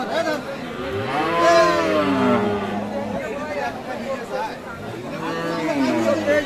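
A cow at a rural cattle market where Friesian and Sahiwal dairy cows are sold moos loudly in two long, drawn-out calls, while market chatter and crowd murmur run underneath.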